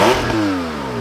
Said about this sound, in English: let's get you guys a little exhaust note.